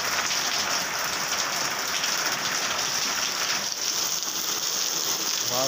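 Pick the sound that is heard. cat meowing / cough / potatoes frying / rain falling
rain falling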